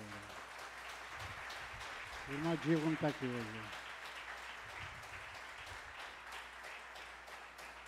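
A church congregation keeps up a soft, steady patter of applause to welcome visiting brothers, heard somewhat distant beneath a voice speaking briefly in the middle.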